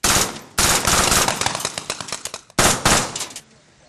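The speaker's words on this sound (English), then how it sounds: "the transition teams moving up the road and taking enemy fire" Loud bursts of automatic gunfire during military urban operations training, as teams move up a road under fire from a balcony: three rapid strings of shots separated by short gaps, close and sharp, with no talking.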